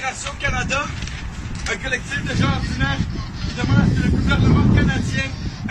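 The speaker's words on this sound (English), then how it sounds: "Pretty windy." Gusty wind buffets the microphone with a low, rumbling roar that swells and fades while people talk over it.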